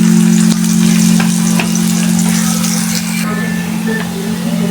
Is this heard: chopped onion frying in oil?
yes